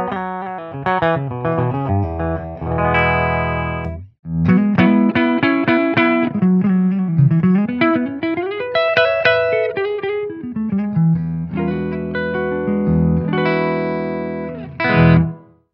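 An electric guitar on the bridge pickup plays through a Blackstar portable amp set to USA voicing, flat EQ and 6L6 settings, with a bright, slightly driven tone, strummed chords and single-note runs, loud and close, with one short pause.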